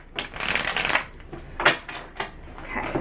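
Tarot cards shuffled close up beside a lit candle, making several dense, papery riffling bursts in quick succession with short pauses between them and no talking.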